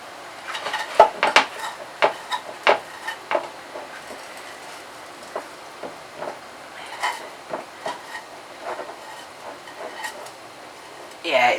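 A spoon stirs and scrapes a sticky Christmas treat mixture stuck to a pan, giving irregular metallic clinks and scrapes, close and moderately loud, with a few pauses between strokes.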